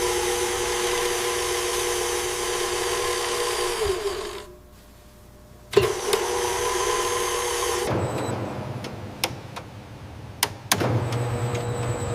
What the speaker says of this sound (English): The spiral arm begins to rotate slowly. It cuts through the mountain of dry flour and salt.